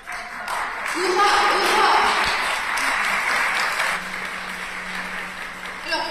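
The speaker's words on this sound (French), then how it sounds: "l'applaudissement est toléré" A crowd claps during a historical performance at the Joan of Arc festival in Rouen, the applause swelling early and then tapering off, mixed with voices nearby.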